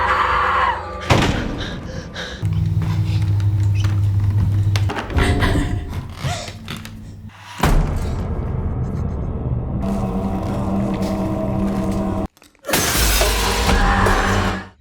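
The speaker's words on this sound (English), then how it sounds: "cracks suddenly spread across the wall and shatter the mirror" A mirror shatters in a film scene, with a loud glassy crash amid rumbling, thuds and dramatic score, a sharp burst near the end after a brief silence, while a narrator talks over much of it.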